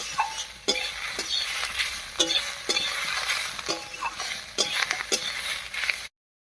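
Bottle gourd peel and chopped coriander fry in a pan with a soft continuous sizzle, punctuated by repeated scraping stirs of a spatula, close and without talk.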